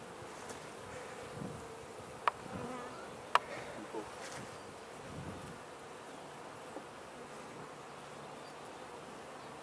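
Honeybees buzz steadily around a beehive during a swarm check-up, a continuous soft drone of many wings close by, with a few brief sharp clicks and no talking.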